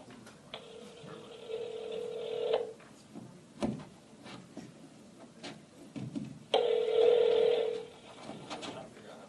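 Telephone keypad tones: two long steady dialing tones separated by short clicks and handling noises, fairly quiet and close, with no talk.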